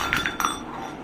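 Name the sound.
glass clinking as child drinks water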